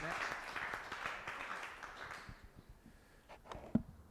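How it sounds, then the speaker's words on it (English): A round of applause from the audience at a data sharing members meetup in Leeds, steady crowd clapping for about two seconds that fades away, leaving low room noise and a few stray claps. "round of applause for Alex."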